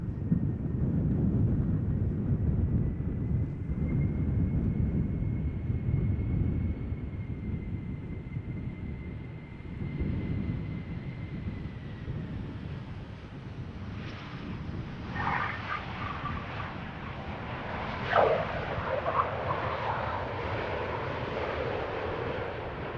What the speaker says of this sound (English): A319, Starlines livery, flight 2302, arriving from Munich.